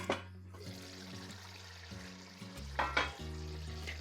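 Masala broad bean curry cooking in a covered pan, a quiet simmer with faint bubbling and a few soft clatters of the lid or utensils, no talking.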